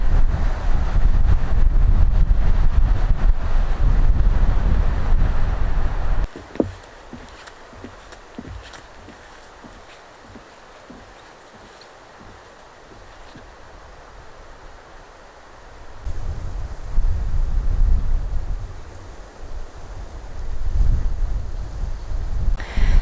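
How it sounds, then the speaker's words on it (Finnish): Strong wind blasts across an open bog at Siikaneva in Finland, roaring loudly against the microphone, then easing to a low rush for several seconds before the heavy gusts return. "Kova tuuli on ja hienosti aaltoilee nämä heinät tässä maassa."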